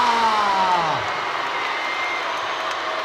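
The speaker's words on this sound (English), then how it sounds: "Joe gets a massive cheer from this arena." An arena crowd roars and cheers for boxer Joe Weller, a dense, sustained wall of noise with a falling tonal sweep early on, then an even roar continuing to the end.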